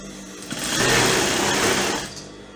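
Sewing machine stitching a sleeve seam on organza ruffle fabric, a steady close whirring run that builds up, holds for over a second, then slows and stops, with no talking.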